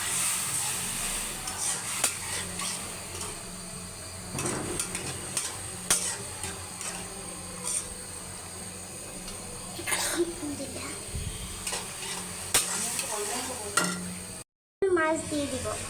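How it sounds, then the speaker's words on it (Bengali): Spices and ingredients stir-fried in a pan make a continuous sizzle with repeated scraping and clattering of the spatula, a voice speaking over it and a brief dropout near the end. "এগুলা দিয়ে এখন কষিয়ে নেব।"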